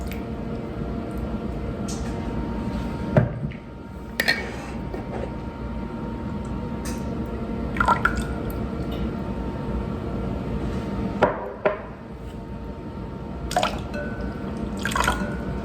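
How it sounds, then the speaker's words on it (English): Liquid drips and splashes in scattered bursts over a steady background hum, irregular pours of wet cake-batter ingredients landing in a mixing bowl. "So we're just going to pour everything in here."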